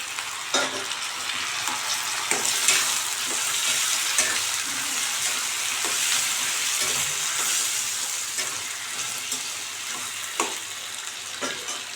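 Chopped onions and tomatoes frying in a pan make a loud, even sizzle with frequent stirring scrapes and light clinks throughout, close up and without any talking.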